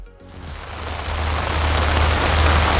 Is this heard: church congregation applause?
no